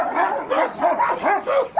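A female American pit bull terrier barks nearby in a rapid run of four or five short, sharp yelping barks, evenly spaced and loud, with no one speaking over them.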